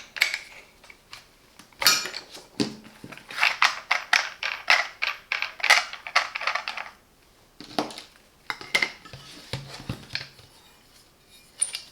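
Metal guard being fitted onto an 18V Hychika cordless angle grinder, heard as a close run of clicks, scrapes and clinks with ratchet-like snaps and short gaps between the bursts.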